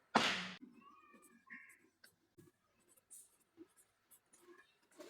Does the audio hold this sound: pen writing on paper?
yes